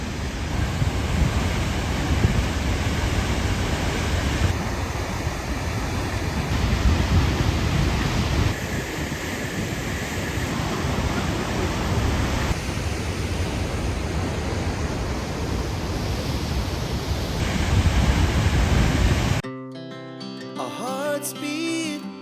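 Rushing river water splashing near a roadside in the Uttarakhand hills, a loud, continuous broadband roar heard close for about twenty seconds, ending abruptly when music takes over.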